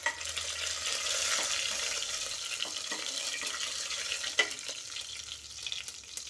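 Mustard seeds, cumin and chana dal frying in hot oil for an Andhra-style bottle gourd dal, giving a soft, continuous sizzle with light crackles and stirring scrapes at close range, without speech.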